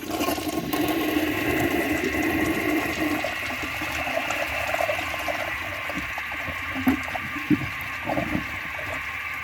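A 1988 Kilgore toilet flushes with a loud rushing, gurgling swirl of water while its fill valve sprays hard, with some scraping and mechanical clicks near the end, heard close and alone.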